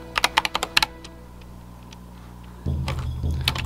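Quick run of keystrokes on a computer keyboard, about a dozen crisp taps in the first second, followed by quiet and then a low steady hum from a laser-cutter setup.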